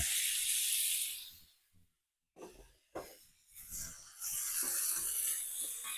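Steak hitting a hot pan of olive oil with garlic, giving a loud broadband hiss that drops away briefly and then returns as steady close sizzling, with faint talk in places.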